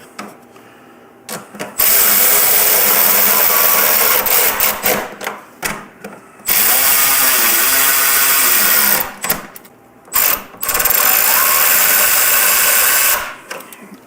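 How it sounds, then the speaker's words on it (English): Power tool or driver running in long sustained bursts with short pauses, close and loud, while screws go back into a motorcycle lower fairing fitted with aftermarket lights and turn signals. "We're going to get these screws back in."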